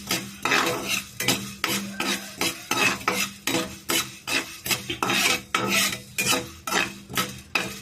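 Dried red chillies and coriander seeds roast in a pan, stirred with a steady rhythmic scraping and rattling of a utensil against the metal, repeating about twice a second, close and alone without talk.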